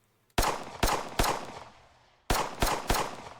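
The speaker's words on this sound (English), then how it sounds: "I'm not really a big fan of them because of the gunshots" Six sharp pistol gunshots in a Roblox roleplay game ring out in two bursts of three, each with a short decaying echo, loud against near silence.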